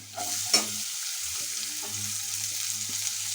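Chopped ginger and onion sizzle in a pan, with a steady hiss of frying and a few close stirring scrapes and knocks of the spoon.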